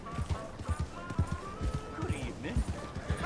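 Horse hooves clip-clop at a steady walking rhythm in Red Dead Redemption 2, close and clear over a dense game background of ambient sound and faint tonal murmur.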